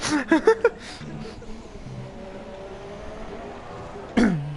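A gamer playing an F1 2017 co-op career broadcast clears his throat in a few quick, rough bursts up close, then a stretch of quiet room noise before another short, harsh throat-clearing at the end.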